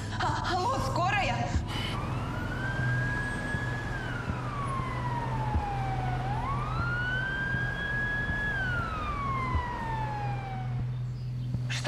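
An ambulance siren wails in long rising and falling sweeps over a steady low engine hum, with a brief burst of other noise at the start.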